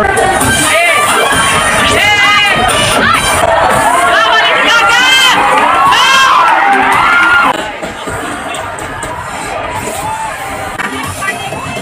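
Crowd cheering at a school cheer dance event: a loud, dense roar of shouting and whooping young voices with high excited squeals, sustained then dropping to a lower chatter partway through.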